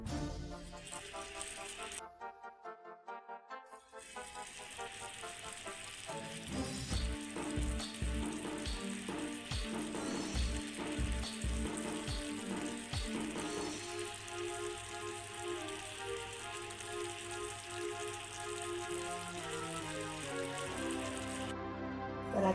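Jaggery modak filling cooking in a pan, a soft bubbling sizzle with faint stirring scrapes, fairly quiet and close, with a rhythmic tapping passage partway through and no talk.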